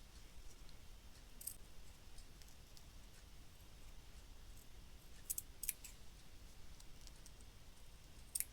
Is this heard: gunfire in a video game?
no